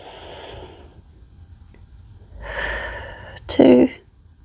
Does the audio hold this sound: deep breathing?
yes